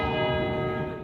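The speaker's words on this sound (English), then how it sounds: "the bells of St. Paul's chimed their special tributes" The bells of St Paul's Cathedral in London chime in tribute to the late Duke of Edinburgh, a single loud, ringing bell stroke with a long, slowly fading hum and no voices.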